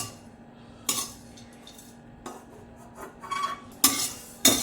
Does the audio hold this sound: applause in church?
no